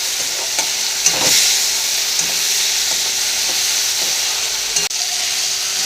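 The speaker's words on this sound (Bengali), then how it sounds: "এটা কষিয়ে নেব" Spices sautéing in oil in a pan for a papad and potato curry: a steady, fairly loud sizzle with a few sharp spoon scrapes and taps at irregular intervals, no voices.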